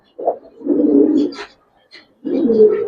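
Old-breed Giribaz pigeons, coloured and silver, coo close by in two long, low, throaty bursts separated by a short pause, with faint chirps in between.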